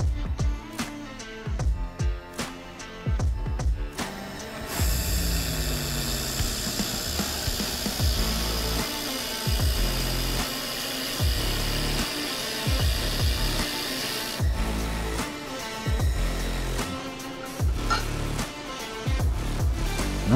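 An IPG LightWELD handheld laser welder lays weld beads on metal, giving a steady loud buzzing hiss with a sustained bright noise band, broken by short clicks and rhythmic pulses, close up.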